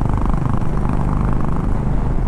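Loud, continuous low engine drone of a Honda Highness CB350 motorcycle cruising on an open road in Rajasthan, a dense rumble with wind noise and no clear gear changes.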